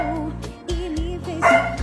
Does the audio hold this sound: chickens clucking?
no